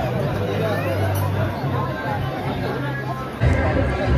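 A busy crowd bustles with overlapping babble and chatter; someone speaks close by over the steady hubbub.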